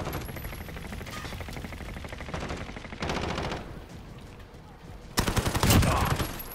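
Rapid automatic gunfire from a PP19 submachine gun in Call of Duty Modern Warfare comes in several loud bursts, the last one heaviest, with game ambience between them.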